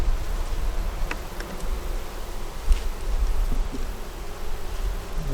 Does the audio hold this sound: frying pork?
no